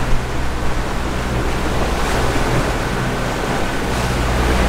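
A boat under way on the open ocean during a passage from the Bahamas toward Charleston, with a loud, continuous broadband rush of water and wind, deep rumbling underneath and no voices.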